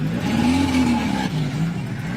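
A car engine catches and runs, its steady idle drone rising and falling in pitch as it revs, loud and close inside the vehicle with a faint rattle over the top.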